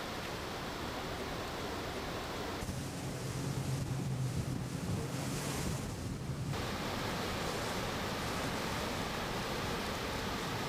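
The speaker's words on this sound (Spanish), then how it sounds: "disfrutar de las imponentes cataratas del río Iguazú" Iguazú waterfalls roaring, a dense continuous wash of falling water that stays loud and steady from start to finish.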